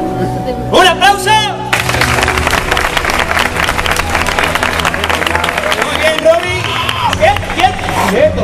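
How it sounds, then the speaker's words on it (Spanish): Audience applause and crowd noise at a live stage show in Dalías, with a dense wash of clapping through most of the clip and a voice speaking over it near and loud. "¡Un aplauso!"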